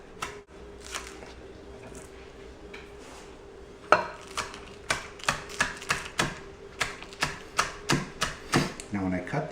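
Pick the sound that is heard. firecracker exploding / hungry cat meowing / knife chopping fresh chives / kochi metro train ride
knife chopping fresh chives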